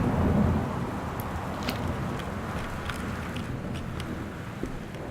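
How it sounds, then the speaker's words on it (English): Steady rain falls with a low rumble of thunder in the video game Gone Home, a soft, continuous wash of rainfall with a heavier roll at the start. "I can hear the rain"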